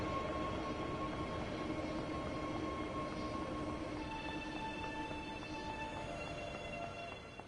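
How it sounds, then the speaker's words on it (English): A Class 187 locomotive in Train Sim World 6 rolls past with a continuous broad rumble and steady tonal whine, the tone shifting partway through and fading slightly at the end; no talking. "That sounds like a 187 to me."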